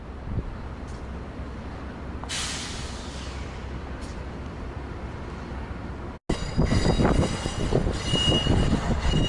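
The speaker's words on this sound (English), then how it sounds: "Two ACS-64s are double-heading a train out of 30th Street Station." An Amtrak train led by two ACS-64 electric locomotives double-heads out of Philadelphia's 30th Street Station, a loud steady rail rumble with squealing wheels, then a sudden cut into closer, heavier clattering of cars rolling past.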